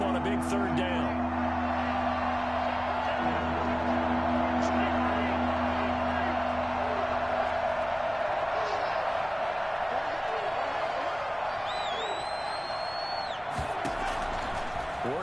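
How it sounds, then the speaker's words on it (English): A Madden football video game stadium crowd roars as a steady, dense wall of cheering that swells throughout, with whoops and a brief thud, and no clear talking. "The crowd getting into it as we come up on a big third down."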